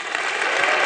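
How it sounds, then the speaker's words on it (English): Audience applause at a TEDx talk in Berlin, a dense, loud wash of clapping from a large crowd, steady and unbroken for under a second. "they wanted to clap you instead"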